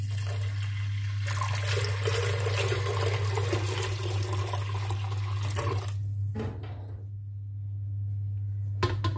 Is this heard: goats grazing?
no